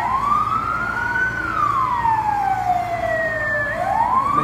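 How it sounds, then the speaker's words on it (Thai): A fire truck races to a house fire in Savannakhet, Laos, its siren wailing loud and close in one long rise and fall over a low traffic rumble. "ยินเสียงรถดับเพลิงมาอีก2คันแล้ว"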